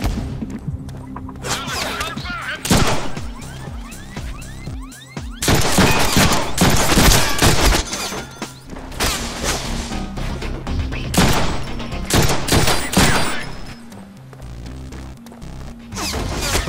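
Gunfire from the Deadpool video game, dense volleys of shots and crashing impacts in a loud, chaotic firefight, with no talking.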